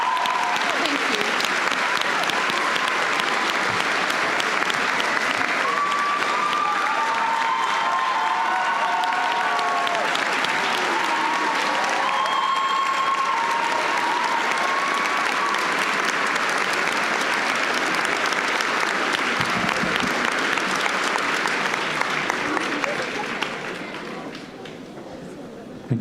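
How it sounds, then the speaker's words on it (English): Graduating students at a college valedictory ceremony applaud loudly in a large hall, a dense, sustained roar of clapping with scattered cheers that lasts over twenty seconds before tapering slightly at the end. "give yourself the loudest applause because you did it"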